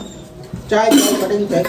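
Steel pots, pans and utensils clatter and clink as they are rummaged through in a home kitchen while preparing tea, a sudden burst of metallic rattling close by after a quiet start.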